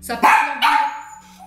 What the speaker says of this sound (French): Excusez-moi pour le chien.